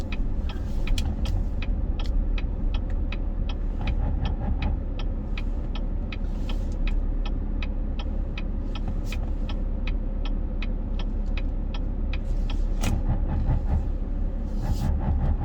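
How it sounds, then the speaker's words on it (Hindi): A car reverses into a parking space at an LA Fitness gym lot in the morning: a steady engine drone is heard from inside, with a regular ticking click running throughout and no talking. "मैं अपनी कार कितनी परफेक्ट रिवर्स में पार्क कर रही हूँ।"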